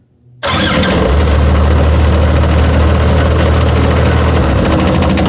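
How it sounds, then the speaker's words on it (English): The engine of a Vermeer BC1000X wood chipper catches suddenly after cranking and settles into a loud, steady running roar close by. "As soon as I crank it, it will fire it up"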